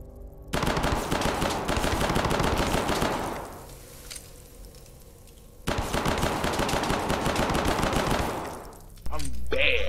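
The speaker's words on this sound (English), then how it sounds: "You're spamming that fire button." Rapid gunfire in a horror shooter video game, two long sustained automatic bursts separated by a short pause, loud and dense, with a third burst starting at the end.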